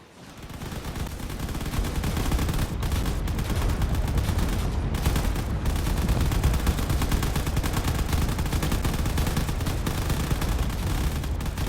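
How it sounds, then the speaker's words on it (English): Sustained heavy gunfire from a carrier's turrets in the Drone Wars video game, a dense, loud barrage of rapid shots and blasts that continues without pause. "here comes the carrier, which is now moving in with all of its firepower"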